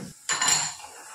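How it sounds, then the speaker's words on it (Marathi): Split mustard seed dal is tipped into a mixer grinder jar: a short, bright rattling clatter of seeds hitting the jar that starts after a brief pause and fades within a second. "जी राईची आपण इथे डाळ घेतलेली ती सुद्धा ह्यामध्ये ओतून घेणार आहोत सर्व"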